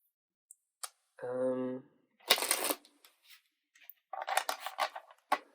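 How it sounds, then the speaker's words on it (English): Tarot cards being shuffled by hand, with several short papery riffles and bursts of card flutter close to the microphone; no one speaks during the shuffling, though a brief tone sounds partway through. "was told to start shuffling these, so I'm going to start shuffling them."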